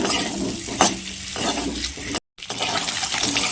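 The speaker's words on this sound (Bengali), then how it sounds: "ডিমগুলি লবণ হলুদ দিয়ে এগুলো ভেজে নিচ্ছি" Eggs seasoned with salt and turmeric fry in hot oil, a steady close sizzle with stirring scrapes, broken by a brief silent gap before the frying resumes, no voices.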